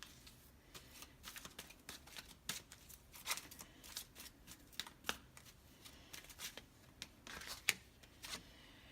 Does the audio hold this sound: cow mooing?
no